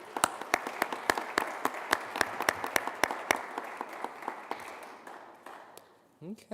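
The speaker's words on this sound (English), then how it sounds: "another round of applause for Katie Allen with the Chill Out" An audience at a high school business challenge final claps for a finalist, the separate sharp claps dense at first, then thinning out and fading toward the end.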